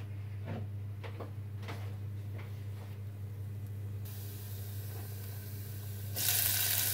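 Food sautés in hot oil in a pan while preparing salmon with crème fraîche, cèpes and potatoes; a steady soft hiss grows brighter and much louder near the end, with no talking.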